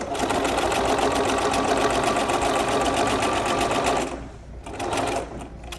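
A sewing machine stitches a flannel rag quilt, running loud and steady in a continuous whirr for about four seconds, then stopping briefly before a short final burst.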